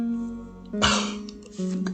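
A person coughs and clears their throat indoors in a short, harsh burst, close and fairly loud, after a quiet lull, with no talking.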